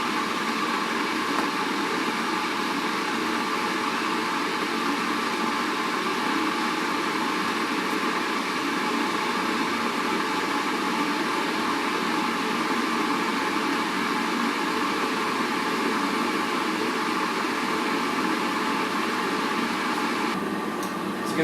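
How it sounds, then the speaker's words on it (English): A steady, even rush of water boiling in a kettle roars continuously, a dense broadband hiss with no pauses or talking. "A lot of tea taters will listen to the sound of the boiling water."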